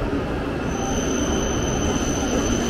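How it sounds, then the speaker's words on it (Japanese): A train pulls into a station in Nagano, a steady broad rumble with a faint high whine above it, continuous and fairly loud with no distinct breaks. "あ、電車来ましたね。"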